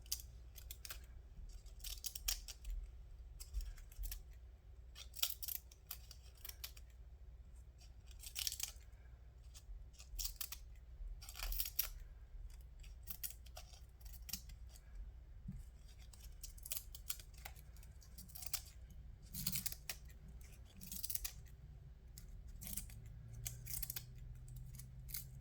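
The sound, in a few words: scissors cutting an onion, ASMR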